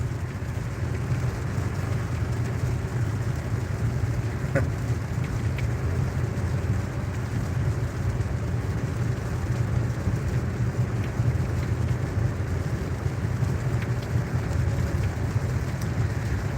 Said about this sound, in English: Starting to get a little bit harder in the rain department.